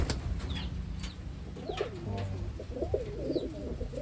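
Pigeons coo softly in a series of low, throaty calls near the end, with faint wing flaps and ambient background noise around them.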